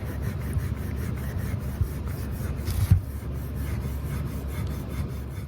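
Steady close rubbing on an exterior door to remove old varnish, a continuous dry abrasive scrubbing with a brief slightly louder scrape near the middle, even and uninterrupted throughout.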